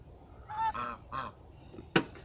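A few short nasal goose honks sound at moderate distance in a quiet garden, followed by a sharp brief knock.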